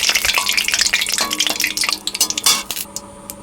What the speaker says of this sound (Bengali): ফোড়নটা দিয়ে দেবো, সাদা জিরে তেজপাতা শুকনো লঙ্কা।